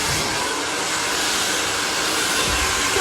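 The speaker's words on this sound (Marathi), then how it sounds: "तुमचा ड्रायर चालू असताना" Hair dryer blowing steadily during a blow-dry with a round brush, a loud continuous airy roar that holds at an even level throughout with no voices.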